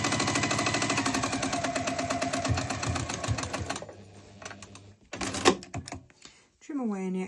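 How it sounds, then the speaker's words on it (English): A sewing machine runs in a steady rapid stitching burst as it top stitches the side of a small magnetic bookmark, then stops, followed by handling noises and a voice talking at the end. "And top stitch down the other side."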